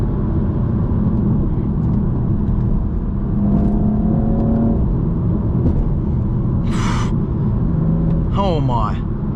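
A BMW M235i with its manual gearbox in full manual mode, driven hard: a steady engine roar rises in pitch twice as it accelerates, with voices speaking over the drone from inside the car.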